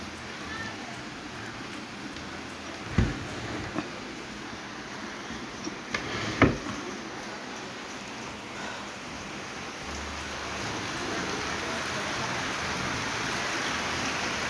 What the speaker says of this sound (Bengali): ভালোই বৃষ্টি আসছে।